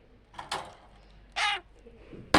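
A bird nearby lets out a few short, harsh squawks separated by quiet gaps.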